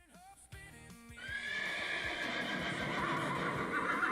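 A horse neighs loudly and clearly, a long rising whinny that trails off, followed by sustained bright noise like hoofbeats or galloping that stays loud to the end.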